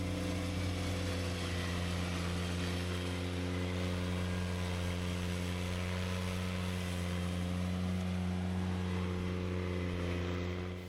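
A 1948 Farmall M tractor pulling a 10-foot flexwing rotary mower, its engine running at a steady, deep drone with a constant mower whine, loud and close for about eleven seconds with no talk.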